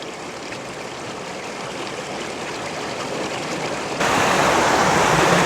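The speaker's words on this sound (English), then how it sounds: "Here's a nice shot of the water going over some more rocks there" Steady rushing of stream water tumbling over rocks at Seven Tubs Nature Area, Pennsylvania, a continuous broadband wash that grows louder partway through as if moving closer.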